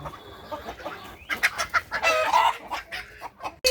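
Chickens and a rooster cluck in a farmyard, a run of short, fairly close calls of varying loudness, some louder squawks near the end.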